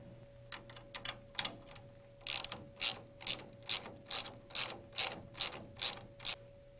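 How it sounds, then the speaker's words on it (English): A ratchet wrench clicks as it removes the bolt holding a rod end to the collective actuator fork on a Rotorway helicopter. There are bursts of quick ratcheting at first, then a steady run of about a dozen evenly spaced, fairly loud clicking strokes, close up. "Remove the bolt that holds the rod end to the collective actuator fork."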